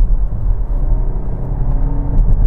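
Hyundai Kona 1.6 Turbo with a 7-speed dual-clutch gearbox accelerating in sport mode, heard from the cabin as a loud, low engine rumble and whir that rises gently.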